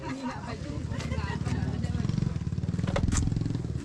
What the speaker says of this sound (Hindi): सो ये है जिस म्यांमार बाइक के बारे में मैं बता रहा था।